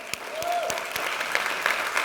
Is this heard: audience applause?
yes